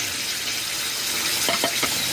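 Hot water pours steadily into a pan of mustard rohu fish curry with a faint sizzle underneath; a few soft splashy bursts come near the end.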